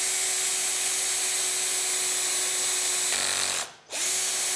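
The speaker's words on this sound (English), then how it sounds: "So just popping the drill down onto there" Power drill whines at a high, steady pitch for about three seconds while drilling a hole, then slows and stops briefly before spinning back up.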